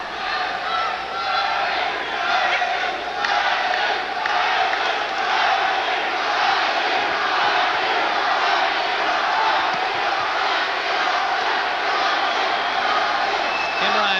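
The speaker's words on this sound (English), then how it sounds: "an excited crowd in anticipation of a New Jersey world champion" Excited boxing crowd at ringside before a world title fight against champion Pedroza, a dense continuous roar of voices and cheers that stays loud and steady throughout, with no individual speech standing out.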